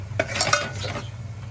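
Garam masala and mutton masala being stir-fried in a pan for goat trotter soup: soft sizzling with a few quick scraping stirs of a spoon, close and brief, no talking.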